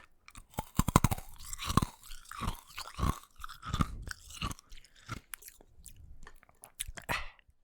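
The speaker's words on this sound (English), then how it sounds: "Can we do some ASMR real quick? I have ice in my mouth." Someone chews ice cubes close to the microphone, with loud, brittle crunches and cracks in an irregular chewing rhythm and no speech.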